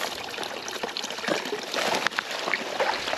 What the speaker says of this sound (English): There is a wee stream here, but it's fairly buried.